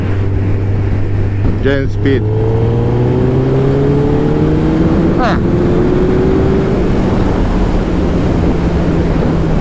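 A 2009 Suzuki Hayabusa inline-four engine drones steadily and climbs in pitch through the gears while riding, under heavy wind roar, with someone speaking briefly over it.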